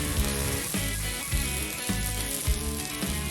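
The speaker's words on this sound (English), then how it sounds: "throw them up on the grill over the fire" Beer brats sizzling on a grill over an open fire at a budget backyard barbecue, a steady close crackling hiss with small pops and a few soft knocks, no talking.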